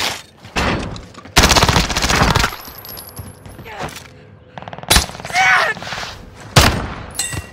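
Warzone match gunfire: loud bursts of automatic shots crack out in several clusters, close and sharp, with quieter gaps and game voice callouts between them.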